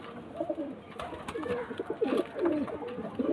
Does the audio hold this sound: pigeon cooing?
yes